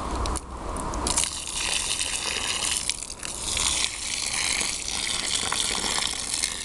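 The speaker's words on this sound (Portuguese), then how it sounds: "Essa é a água que a Sabesp está fornecendo aqui em São Paulo." Tap water gushes hard and continuously from a faucet in São Paulo, a loud, steady rushing splash with no voices.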